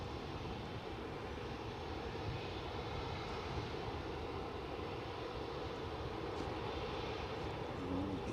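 An airliner arriving on the Polderbaan runway at Amsterdam Schiphol gives off a steady, broad jet-engine roar that stays loud and even the whole time, with no voices.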